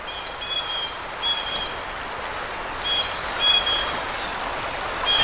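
Creek water runs steadily beneath King's Covered Bridge in Pennsylvania, a soft continuous wash close by with faint birdsong chirping above it and no voices.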